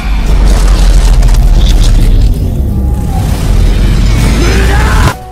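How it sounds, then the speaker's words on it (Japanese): The Killer Queen third bomb Bites the Dust effect from an anime edit: a loud, sustained booming explosion rumble that dips midway, swells again and cuts off abruptly near the end. "キラークイーンの第3の爆弾、バイザーダスト。"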